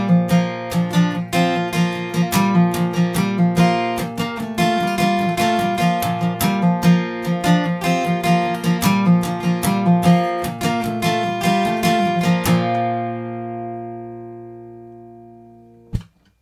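Acoustic guitar plays the full intro to a worship song, a steady stream of plucked notes and pull-offs mimicking an electric riff, which rings out and fades to silence before one last soft pluck.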